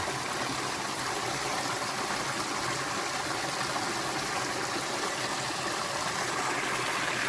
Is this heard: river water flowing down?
yes